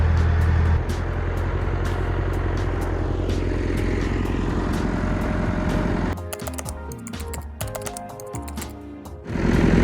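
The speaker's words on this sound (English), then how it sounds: "I don't like the sound of the tractor, it's a bit noisy" A noisy farm tractor engine runs steadily nearby, a continuous rattling drone that holds through most of the stretch before giving way to choppier, clattering mechanical sounds near the end.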